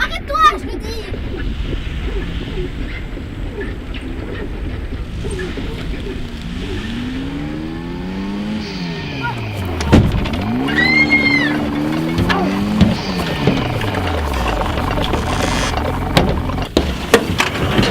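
An old car's engine runs under a steady rumble, then revs up and down in sweeping rising and falling whines in the middle, with broken-down sputtering and voices talking over it.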